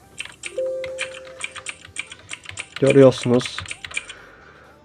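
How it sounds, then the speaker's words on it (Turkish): Mechanical keyboard typing clicks produced by the Mechvibes app on a computer, a steady run of crisp, evenly spaced keystrokes, close and moderately loud, with a brief burst of speech partway through. "Bu uygulama mekanik klavye sesi çıkarmaya yarıyor."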